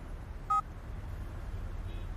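A short electronic notification tone on a newly switched-on phone with a fresh SIM card, a single brief two-pitch beep sounding clearly over quiet room hiss, with silence after.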